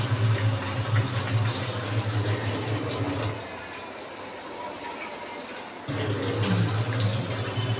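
Water pours steadily into a pot of katla fish curry, a loud continuous splashing that eases off midway and then surges back.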